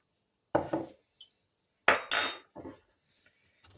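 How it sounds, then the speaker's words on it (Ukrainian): A spoon knocks and scrapes against a bowl while yeast is mashed and stirred into warm milk for pie dough, giving a few short, close clinking bursts separated by quiet gaps. "розмішую гарненько наші дріжджі, розминаю"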